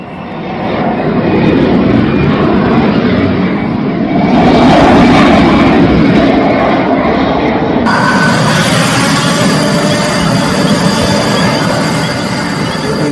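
American fighter jets roar overhead in a loud, sustained engine rumble that swells and holds for several seconds before fading slightly.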